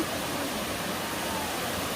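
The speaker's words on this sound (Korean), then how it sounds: "동네 폭포 전망대 다리 에서 찍고 요 아랫부분으로 내려가는 물줄기입니다" Bongnae waterfall on Ulleungdo pours in a steady broadband rush of falling water, close and continuous with no other sounds.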